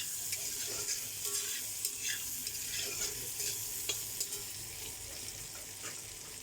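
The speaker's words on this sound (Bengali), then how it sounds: "আলুগুলাকে একদম কড়া করে ভেজে নেব" Potatoes dusted with turmeric fry hard in a pan, giving a steady close sizzle with scattered crackles and spatula scrapes and no voices.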